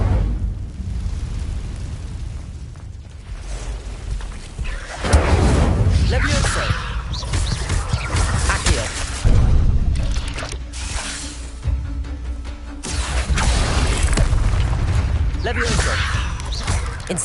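The Incendio fire spell is cast repeatedly in Hogwarts Legacy, producing loud whooshing flame bursts with booming thumps in several separate surges, while a voice speaks between the casts.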